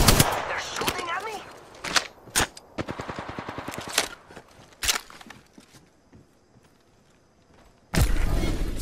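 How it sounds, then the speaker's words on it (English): Bursts of automatic and single gunshots in the Apex Legends video game, sharp cracks in rapid strings, then quieter stretches and a final loud blast. "Firing! Shots fired! They're shooting at me?"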